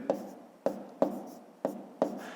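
A pen writing an answer by hand in a maths exercise, five short scratching strokes at an even pace, close and fairly quiet, with no talking.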